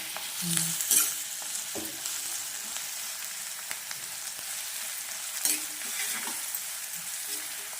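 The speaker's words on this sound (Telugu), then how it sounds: "ఉల్లిపాయలు కొంచెం ఫ్రై అయిన తర్వాత" Onions frying in a pan hiss with a continuous, close sizzle, broken by a few metal scrapes and clinks as they are stirred.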